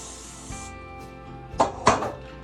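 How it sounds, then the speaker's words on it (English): A steady hiss of aerosol cooking spray into a springform pan for about half a second, followed by a couple of soft knocks of the pan being handled. "Today I'm doing a springform pan, which we're gonna start out by spraying."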